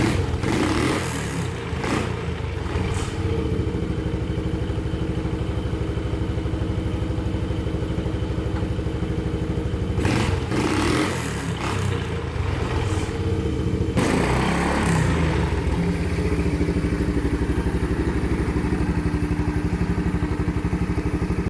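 Small engine of a homemade mud mower running steadily and close, a continuous rough mid-pitched drone with a few clattering thumps and a brief shift in tone partway through, no talking.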